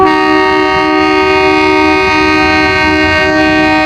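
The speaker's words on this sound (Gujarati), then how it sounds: "પછી તો જવા દીધી ટ્રેનને" A train at a railway level crossing sounds its horn in one loud, sustained, steady blast that holds without a break for the whole moment, close and overpowering.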